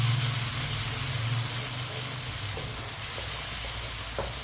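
Crushed garlic, finely chopped green chillies and chopped tomato frying in a pan, a steady loud sizzle with continuous hiss and crackle, close and uninterrupted throughout.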